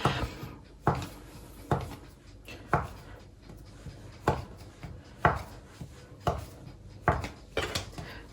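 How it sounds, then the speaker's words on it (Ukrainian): A knife cuts through soft cookie dough on a board, about a dozen dull, evenly spaced chops at a slow, steady rhythm. "Потім нарізаю невеличкими шматочками"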